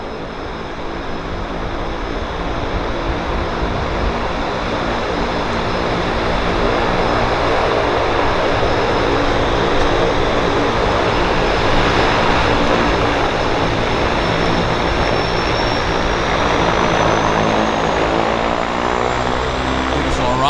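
A propeller floatplane arrives at Vancouver Harbour Airport, its engine droning loud and steady for the whole stretch and swelling slightly as it comes closer, with a faint voice underneath.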